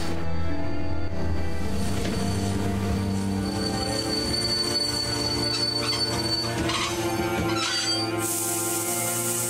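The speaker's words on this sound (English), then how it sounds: "Stop the train while you're at it" A train grinding to a stop in The Walking Dead video game, with sustained metallic wheel squeal and rumbling rail noise running steadily throughout, loud and continuous with no talk.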